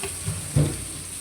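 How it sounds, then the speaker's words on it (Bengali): Spiced meat frying slowly in a covered pan gives a soft, steady sizzle, with a short louder stirring clatter midway. "এখন মশলা ঢেকে দিব, আস্তে আস্তে কষায় নেব।"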